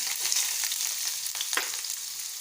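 Chopped onion sizzling in oil in a pan on a gas stove, a steady close crackle with occasional stirring scrapes.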